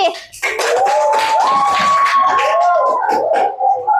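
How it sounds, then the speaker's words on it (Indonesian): Classroom applause for a student group during a teaching practice exam, a burst of clapping mixed with voices and a high, drawn-out cheer lasting several seconds. "Kasih tepuk tangan untuk kelompok 4"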